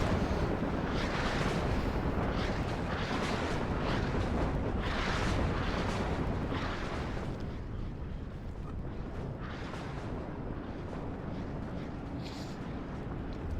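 Grad rocket artillery firing in the game WARNO, a dense continuous roar of launches with rumbling bursts that thins out toward the end.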